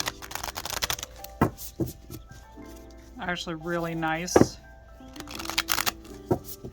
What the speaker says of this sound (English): let's take a look and see how these shuffle